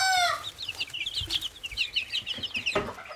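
Young bantam chickens cluck and peep close by in a quick, busy run of short calls, with no voices over them.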